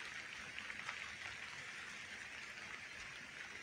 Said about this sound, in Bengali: কিন্তু সকালে বৃষ্টি শুরু হয়ে গেছে।